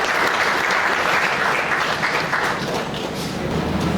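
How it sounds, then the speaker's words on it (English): Dense audience applause at a company's third anniversary event, steady close clapping filling the room throughout the four seconds with a slight dip near the end. "I think now you need to clap"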